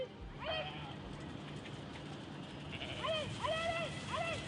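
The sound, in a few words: sheep bleating on a farm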